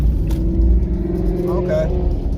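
A car on the road accelerates with a deep, steady engine rumble close by, the revving rising slightly toward the end as a voice talks over it.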